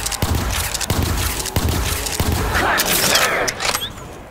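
Pistol shots in a zombies mode video game, several sharp rapid reports at uneven intervals over a loud noisy game soundscape.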